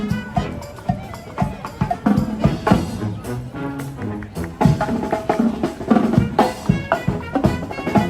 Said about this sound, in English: Disneyland band is playing over here in front of the castle